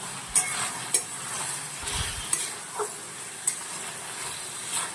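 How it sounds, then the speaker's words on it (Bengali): Salt being stirred into a nearly dry banana flower curry in a pan: a faint background sizzle broken by a few sharp spoon scrapes and clicks against the metal, close by, with no talking. "এই পর্যায়ে আমি একটু দিয়ে দিলাম লবণ এবং লবণটাকে আমি একটু মিশিয়ে দিলাম"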